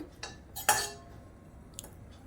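Scraping and clinking of a spoon against a pan while grated coconut is stirred and roasted for sesame laddoos, a few sharp metallic scrapes spaced apart, fairly close and quiet.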